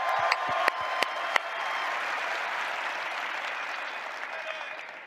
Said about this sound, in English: Give a round of applause to Mr. James Jones.